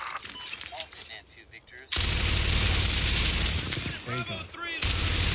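Automatic gunfire in a war drama series erupts in a sudden loud burst after a quieter opening, a dense sustained roar of shots and battlefield noise with voices talking over it.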